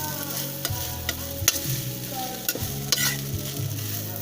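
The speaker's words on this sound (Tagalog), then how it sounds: "i-continue lang natin halo ulit" Rice frying in a pan with a little salt is stirred, giving a steady sizzle broken by irregular scraping and clanking strokes of the utensil, close and moderately loud, with no talk.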